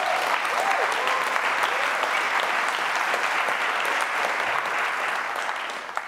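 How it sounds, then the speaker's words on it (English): An audience at a film scoring masterclass gives the conductor a steady, dense round of applause that holds evenly for several seconds, then tapers off slightly at the end. "a little round of applause for our conductor, please."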